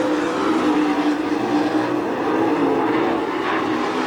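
Late model race cars roar around Attica Raceway Park on a dirt oval during a heat race, a steady, dense engine drone heard from a distance with no pauses.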